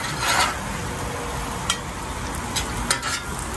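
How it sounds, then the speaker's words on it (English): Cheesesteak meat and cheese, Cajun style, sizzling steadily on a griddle that has been switched off, a soft continuous hiss with a few faint scraping ticks and no talking. "I had already turned the griddle off, but you can still hear the singeing"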